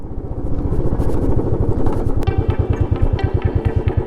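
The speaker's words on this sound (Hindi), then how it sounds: "अब मैं खड़ी कर देता हूँ बाइक को यहाँ छाया में" A motorcycle engine runs close by with a rapid, pulsing idle thump while the bike is being parked on dusty ground at a desert camp, with a brief clatter partway through.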